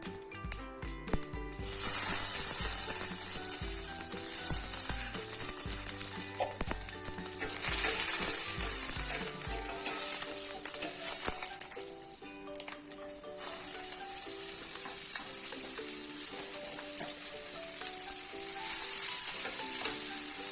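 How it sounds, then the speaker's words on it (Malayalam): Mustard seeds, curry leaves and crushed dried red chilli fry in hot oil for a Kerala-style tempering, giving a loud, continuous crackling sizzle with bright hiss that dips briefly and then surges back. "അതിലേക്ക് കുറച്ച് ചതച്ച വറ്റൽമുളകും കൂടെ ചേർത്തിട്ട് നന്നായിട്ടൊന്ന് മൂപ്പിച്ചെടുക്കണം"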